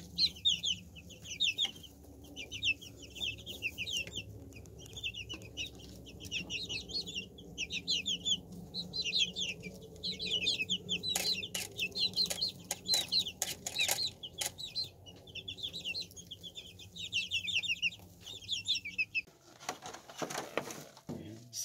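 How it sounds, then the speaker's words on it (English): A house full of baby chickens peep indoors in rapid, high, overlapping chirps throughout, fairly faint, with handling noises and clattering in the foreground toward the end. "We've got a bunch of baby chickens peeping."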